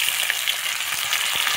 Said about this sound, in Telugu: ఆనియన్స్ వేగిపోయాయి. ఇందులో టమాటాలు వేసేసుకుని